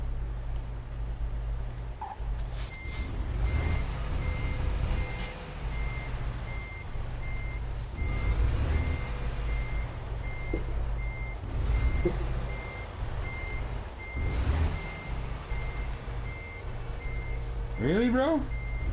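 Trucks backing up in a sleep lot, a repeating reversing beep pulsing steadily over deep diesel engine rumble and hiss, with scattered clunks and a short high squeal near the end.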